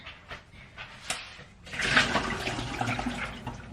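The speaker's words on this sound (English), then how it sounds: "I am going to tip the water out that they've soaked in." Soaking water is tipped out of a bowl into a sink, a sudden gushing pour that begins after a few soft knocks and runs on for about two seconds.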